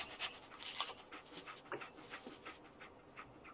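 A dog panting in the video game Fallout 4: quick, breathy huffs in an irregular rhythm, close and moderately loud, with no talking.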